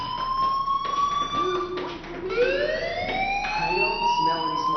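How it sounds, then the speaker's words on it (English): A fire alarm sounds in the video game Life Is Strange, a continuous wailing electronic siren with tones sweeping up and down, loud and steady throughout, with other game sounds faintly beneath. "do you hear that fire alarm?"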